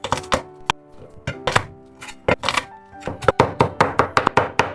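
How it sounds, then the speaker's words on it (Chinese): A knife chops six garlic cloves on a cutting board in quick, uneven bursts of crisp, close knocks with short pauses between runs. "6瓣蒜先拍一下，再切碎。"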